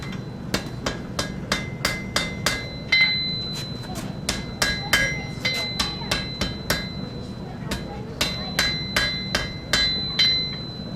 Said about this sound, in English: Give it another weld, just to be sure.